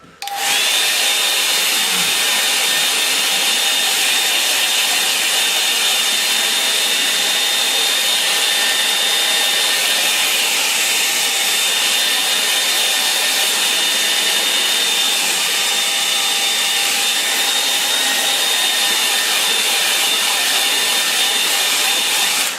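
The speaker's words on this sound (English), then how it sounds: "I'm going to dry that now before I start to detail." A hair dryer blows steadily and loudly on a painting of a misty river morning, a constant close whoosh that starts abruptly and runs unbroken throughout.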